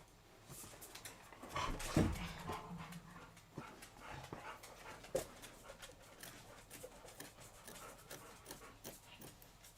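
Dogs panting heavily indoors, a steady rapid huffing with a few louder bursts and faint whimpers, fairly close and low in level, with no talk over it.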